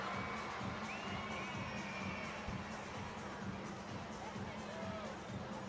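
Stadium crowd at the World Para Athletics Championships in London 2017, a distant, steady roar of cheering and shouting spectators filling a large arena, with no single voice standing out.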